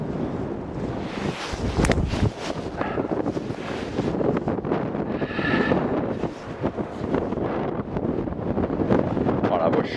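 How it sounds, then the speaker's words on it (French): Gusty wind buffets the microphone on a golf course fairway, a loud continuous rumble and roar throughout, with someone talking over it at times. "Il y a du vent."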